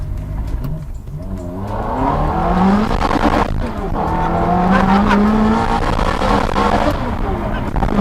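A Ferrari F430 4.3-liter V8 engine revs hard and climbs through a gear, loud and close, with rising harmonic tones and a brief shift dip midway.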